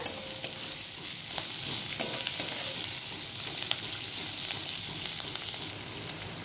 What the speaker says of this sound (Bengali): এর মধ্যে দিয়ে দিচ্ছি বেশ কয়েক টুকরো কাজু বাদাম, এটাও এর মধ্যে দিয়ে দিচ্ছি। একটু ভাজা ভাজা করে নিচ্ছি